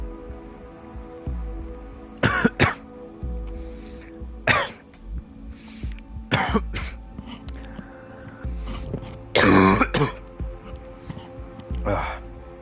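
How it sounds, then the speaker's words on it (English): A person coughs hard in several loud bursts and clears their throat after choking on cream soda, with quieter gaps and a low background hum between the fits. "that cough definitely woke everyone up"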